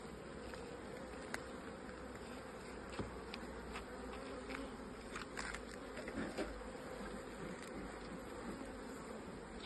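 Honey bees buzz around an open beehive during a hive inspection, a steady close swarm drone with faint ticks and knocks and no talk.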